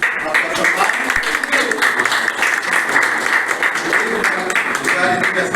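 Applause fills a hall at an award ceremony honouring a state topper, loud and sustained, with dense clapping from a large audience running throughout.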